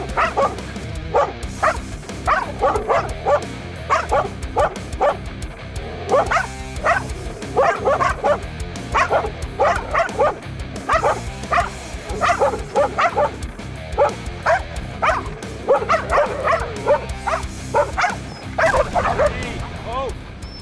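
Belgian Malinois barking and yipping repeatedly in rhythmic bursts with whimpers between, loud and close, while someone speaks French at times.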